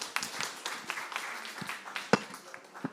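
A small audience at a bamboo management conference gives scattered, faint applause, sparse claps spread unevenly with one sharper clap standing out near the end.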